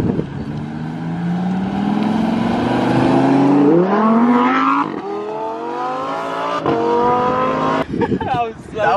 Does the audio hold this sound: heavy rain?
no